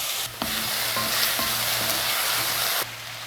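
Apple pieces frying in ghee in a pan, a steady close sizzle broken by several sharp scraping stirs of a spoon, with no talking.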